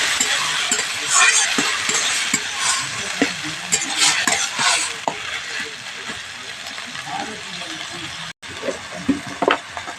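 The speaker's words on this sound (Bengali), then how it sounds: "বাঁধাকপি আর টমেটোটা দিয়ে দিয়েছি দিয়ে পেঁয়াজের সঙ্গে ভালো করে মিশিয়ে নিয়েছি" Cabbage and tomato stirred into softened fried onion in a pan, with busy scraping and clinking of a spoon against metal over a low sizzle, and some talking faintly in the background.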